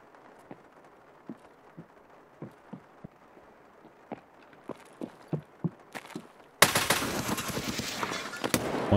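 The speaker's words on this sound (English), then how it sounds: "One second floor shooting at me." Gunfire in an online survival shooter game: a series of sharp shots, some distant, popping at irregular intervals, then a sudden loud, dense burst of nearby firing and noise in the final seconds.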